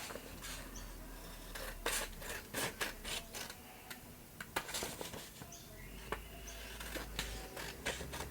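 Paper for a collage being trimmed with scissors, giving a run of soft snips and rustles of varying loudness close by, with no one speaking.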